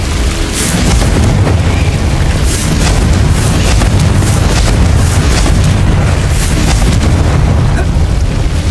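Confringo blasting spells from the Hogwarts Legacy video game boom continuously in a loud, dense wall of explosions and rumbling, with repeated bursts layered over one another throughout.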